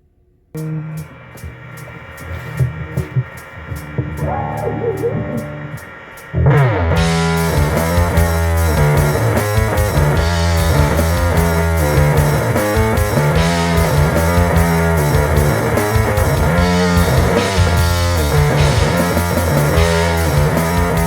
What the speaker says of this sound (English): turn the distortion all the way up, and see what it sounds like